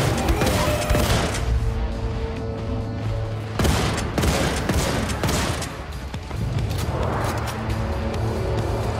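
A shotgun in the first-person shooter Wolfenstein 2 fires in several loud, close blasts spaced a few seconds apart amid a dense rumbling combat din.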